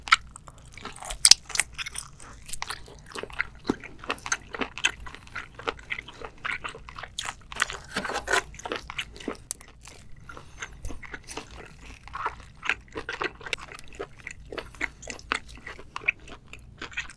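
Scallops and octopus in black bean sauce are eaten close to the microphone, giving dense, irregular wet bites and crunchy chewing that go on steadily throughout, with no talking.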